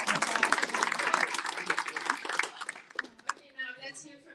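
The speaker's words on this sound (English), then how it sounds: "Big clap for Shah." An audience at a community program breaks into applause, dense and loud at first, then thinning into scattered claps as a voice begins talking over the fading sound.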